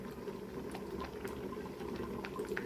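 Rice in a pot of water boiling on the stove for chicken dum biryani, parboiled about 80 percent, gives a steady low bubbling rumble with small pops, continuous and fairly faint, with no voices.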